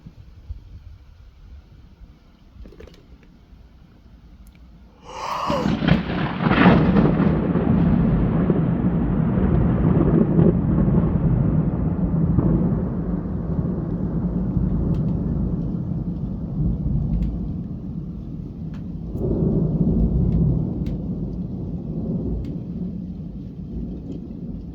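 A sharp, loud thunderclap from a strong August thunderstorm over Bordeaux cracks suddenly, then rolls into a long, deep rumble that slowly fades, with a second rumble surging near the end and no voices.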